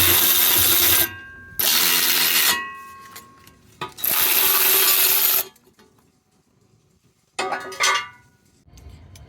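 A hand ratchet loosens the 12 mm bolts on a transmission cross member under a Mitsubishi Montero/Pajero, giving loud, close bursts of rapid clicking in several runs separated by short pauses.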